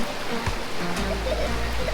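River water rushes steadily at Vybz River in St. Ann, Jamaica, a close, continuous broadband flow with brief splashes.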